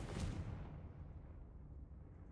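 A Confringo fire spell explodes in the video game Hogwarts Legacy. A sharp burst at the start is followed by a deep rumble that slowly fades, heard alone.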